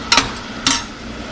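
Onions sautéed in a pan for a dried anchovy (nethili karuvadu) dish, with two short scraping stirs of a spoon against the pan over a faint sizzle.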